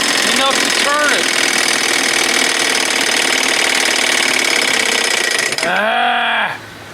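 A 1975 Johnson 4 hp outboard motor runs close and loud with a rapid, buzzing, knocking rhythm, revving up as the mixture is leaned, then dipping and bogging down before falling away at the end.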